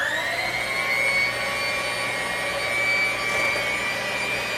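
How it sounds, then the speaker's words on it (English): Electric hand mixer beating butter and sugar until creamy, a steady high whirring motor hum running continuously and close, with no talking. "got the hand mixer to go here, and we will stir this up so it's nice and creamy"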